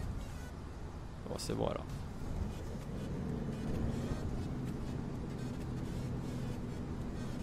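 A vehicle passing in OMSI 2 bus simulator on a snowy mountain road near Bad Kinzau, heard from a Mercedes-Benz Citaro Facelift bus as a steady engine drone with a brief swell. Someone talks briefly over it.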